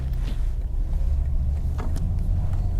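A BMW G82 M4 drives along with a deep, steady rumble of engine and road noise inside the cabin, constant and close with no speech.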